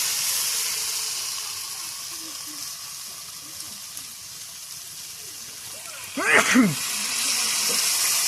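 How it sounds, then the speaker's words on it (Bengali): Figs fry with a steady, fairly loud sizzle in a Bengali home kitchen, then a short burst of hissing steam rises near the end as water is poured into the pan. "এবার আমি জল দিয়ে দেবো।"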